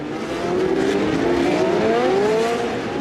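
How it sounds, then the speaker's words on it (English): Historic Formula One cars from 1966–1975 racing at the Monaco street circuit, a pack of 22 cars: a steady, loud blend of several engines screaming past, with rising and falling pitch sweeps as cars accelerate through the corners. "The pack of 22 cars gets through the principal difficulties of the circuit without any problems"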